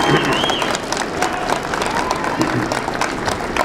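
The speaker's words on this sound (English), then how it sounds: "I think they deserve a standing ovation." A university commencement crowd gives families a standing ovation, loud continuous clapping from a large audience mixed with scattered cheers and whoops, steady throughout with some voices rising over the applause.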